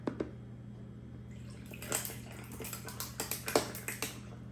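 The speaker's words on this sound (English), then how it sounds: "I'm going to go ahead and pour some of my tea in here." Cold-brew iced tea is poured into a glass of ice, a faint liquid trickle with soft clinks and cracks of ice that grow busier toward the end, over a low steady hum.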